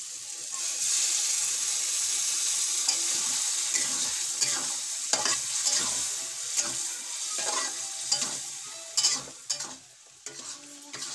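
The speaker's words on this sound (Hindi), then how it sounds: "इसमें अब हमने पनीर ऐड कर दिया है और इसको हल्का चलाते हुए" Steady frying sizzle with scraping stirring strokes as paneer is stirred into an aloo paneer matar curry in a pan, close and continuous, with faint water-like hiss throughout.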